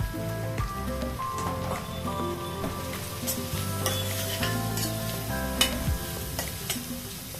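Sliced onions and green chillies fry in hot oil in a home kitchen, a steady crackling sizzle with repeated utensil stirring and scraping knocks throughout, close and moderately loud, with music-like tonal sounds underneath and no talking.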